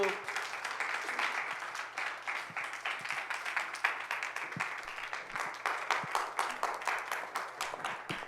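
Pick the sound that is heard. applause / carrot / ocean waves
applause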